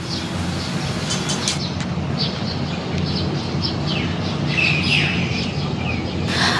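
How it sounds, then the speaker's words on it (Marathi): Small birds chirp intermittently in the morning outside a seaside hotel, faint scattered calls over a steady broadband wash of background noise with no talking. "पक्ष्यांचा आवाज पण तुम्ही बघू शकताय किती छान येतो आहे"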